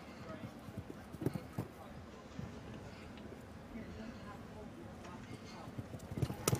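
Faint horse hoofbeats thud irregularly on soft ground with occasional sharper knocks, under a low steady background and talk, at a show jumping competition final in Aachen.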